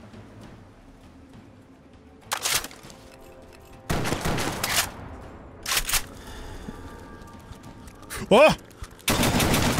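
Gunfire in the game Fallout: Tale of Two Wastelands during a fight with a Feral Ghoul Reaver, coming in several loud broadband bursts between quieter stretches, with a brief exclamation from a player.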